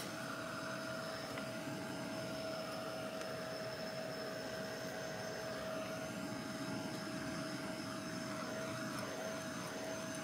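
A heat tool blows hot air to dry a print on a Christmas tree art journal page, giving a steady, even whirring roar with a constant hum that continues unbroken the whole time, with no talking.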